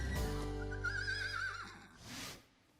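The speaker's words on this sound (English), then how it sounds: "it's amazing to see these kids riding horses like a pro" A horse at a riding session whinnies loudly and close, a long wavering neigh that trails off, followed by a short breathy snort.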